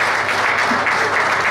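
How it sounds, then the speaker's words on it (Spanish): An audience applauds at a tribute to former boxer Ernesto Cacho Basualdo, a short, loud, even burst of clapping from a crowd with no speech over it. "Gracias por los aplausos."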